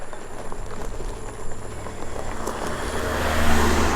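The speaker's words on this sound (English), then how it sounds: "I have a car coming up behind me" A car comes up from behind on a road, its engine and tyre noise rising steadily in a low rumble that grows louder toward the end.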